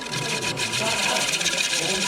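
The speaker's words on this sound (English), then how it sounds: "This is a 6mm woodcut bowl gouge, mini bowl gouge is what they call it" A 6mm mini bowl gouge cutting wood on a lathe, a steady close rasping, scraping whir that continues without a break.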